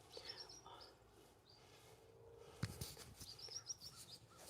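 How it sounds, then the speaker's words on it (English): Several birds chirp and tweet in short high bursts against a busy outdoor background, with a sharp knock midway and no talking. "Can you hear them? Can you hear the birds?"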